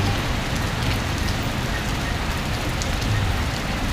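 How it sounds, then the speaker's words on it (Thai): Heavy rain pours down in Prasat, Surin, Thailand, in a dense, constant hiss, loud and unbroken throughout. "ฝนตกหนักมากเลยตอนนี้"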